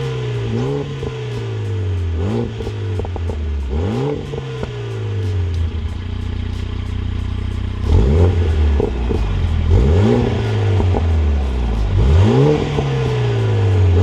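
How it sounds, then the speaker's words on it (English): A Lotus Emira sports car with a performance exhaust revs repeatedly while stationary, rising and falling in loud, rhythmic bursts with a throaty exhaust note, close by and without speech. "So that's the static revs."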